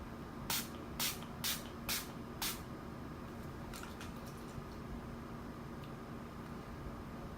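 A makeup setting spray bottle gives five short, crisp hissing bursts in an even rhythm, followed by a few fainter puffs against a quiet background.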